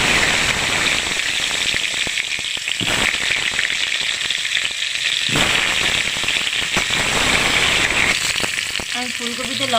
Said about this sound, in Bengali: আমি এই তেলে আলুগুলো দেব।